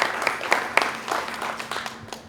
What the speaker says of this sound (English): let's give our 5 athletes a round of applause before we get started